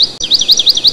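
A voice imitates a trembling bird chirp, a rapid run of high, wavering tweets repeating in quick pulses, loud and close with nothing else under it.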